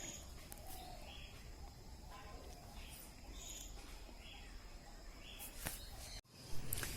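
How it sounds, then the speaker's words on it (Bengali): A flock of caged budgerigars chirps and chatters in a steady, fairly faint twitter at an open-air bird market in Garia, with general market background noise and a brief thump near the end. "এবারে এক ঝাঁক বদ্রি পাখি দেখতে পাচ্ছেন"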